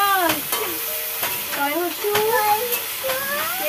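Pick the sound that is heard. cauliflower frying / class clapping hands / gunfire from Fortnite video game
cauliflower frying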